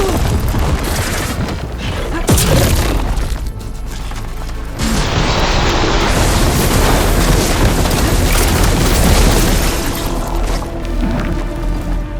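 Loud, sustained explosion detonating in the video game H:FW, with a heavy boom and rumbling blast debris filling the whole stretch, alone with no talk.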